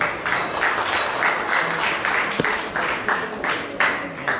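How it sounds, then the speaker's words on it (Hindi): An audience at a temple music competition claps to thank the judges, steady pulsing applause from a crowd, moderately loud, with one sharp knock partway through. "जोरदार तालियों से हम निर्णायक मंडल को धन्यवाद देते हैं"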